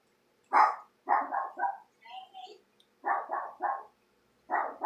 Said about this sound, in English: This dog barks at everything.